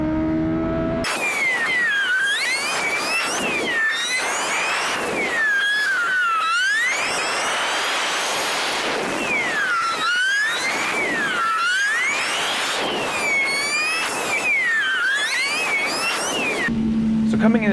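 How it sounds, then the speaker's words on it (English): Motorcycle at Road Atlanta during a relay race, engine climbing through rising and falling pitch sweeps as it accelerates through gears, loud and close with steady wind rush throughout, cutting off near the end. "We're going to try to actually accelerate, maybe pull a wheelie or something like that as we get going here."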